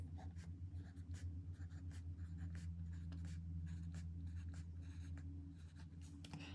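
Pen or pencil writing numbers on paper, producing faint, close scratchy strokes in short irregular bursts over a steady low hum.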